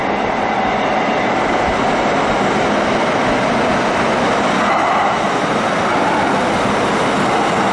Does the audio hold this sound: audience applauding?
no